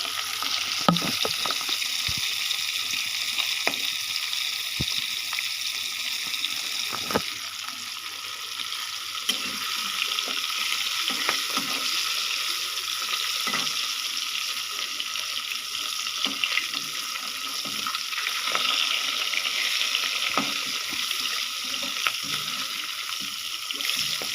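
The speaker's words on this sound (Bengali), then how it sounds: "মাছটাকে আমি দিয়ে দিচ্ছি তেলের মধ্যে গরম হওয়ার পরে" Fish goes into hot oil and fries with a continuous soft, hissing sizzle and scattered crackles and pops, moderately quiet and unbroken throughout.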